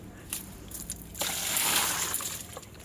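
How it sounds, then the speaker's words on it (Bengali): Water pours from a bucket onto an aloe vera plant, a soft splashing and sloshing that swells in the middle and trickles off, close and fairly quiet. "অ্যালোভেরা গাছটাতে জল দে"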